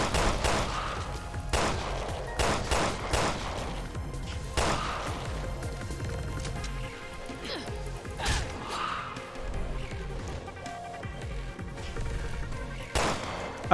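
Repeated gunfire from Resident Evil Revelations 2, with sharp shots that come singly and in quick clusters over a busy game soundscape with thuds and impacts, loud and near throughout.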